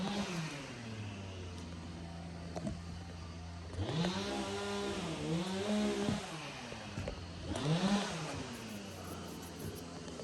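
A chainsaw drones and revs in the distance near an 1800s barn on a homestead, its pitch rising and falling as it bites through wood, steady and fairly faint.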